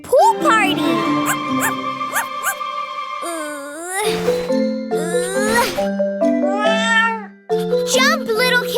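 Cartoon kittens in an animated children's show meow in high, sweeping cries, one after another, over bright playful music with chiming bell tones.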